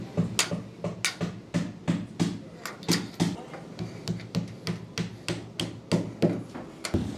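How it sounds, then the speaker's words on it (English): A hammer drives nails through the outside flange of an Andersen A-Series window during installation, about a dozen sharp, evenly spaced close blows in a steady rhythm, with no talking. "All nailed off on the outside."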